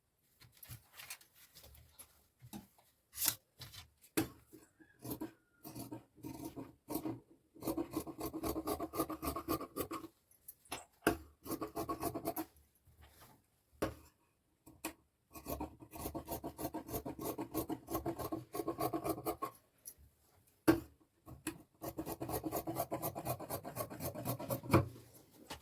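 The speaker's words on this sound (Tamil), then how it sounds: "இதை கட் பண்ணிடுறேன்." Scissors cutting blouse fabric for a size 38 blouse, slicing along a marked straight line; rapid, close raspy snips come in bursts with short pauses, scratchy and fairly loud, with no voices.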